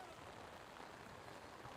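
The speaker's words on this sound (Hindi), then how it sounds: "और काफ़ी तेज़ बारिश हो रही है।" Heavy rain falls outdoors as a dense, even hiss of drops on surfaces, continuous and unvarying throughout.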